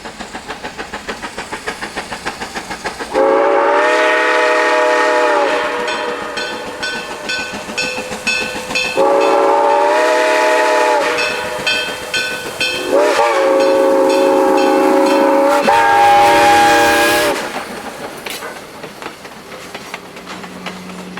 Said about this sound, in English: 1702 sounds her replica Southern Railway 6 chime long and loud for the several crossings along this stretch of track